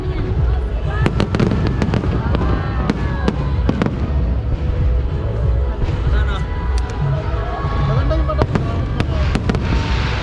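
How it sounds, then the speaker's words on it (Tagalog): Fireworks finale at a display in the Philippines, with dense rapid bursts and booms going off one after another for the whole stretch, loud and continuous, while people talk in the background. "I wonder what kind of fireworks is the finale."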